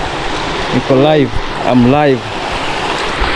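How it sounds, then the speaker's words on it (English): Flowing river water at the riverbank in an African village, a steady broadband rush running throughout, with a person talking over it. "So guys, we are at the river banks."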